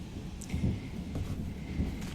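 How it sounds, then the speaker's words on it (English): Thunder rolls through on a winter morning, a low, muffled rumble that swells and fades in soft waves, distant and fairly faint, with no talking over it. "Can you hear that thunder?"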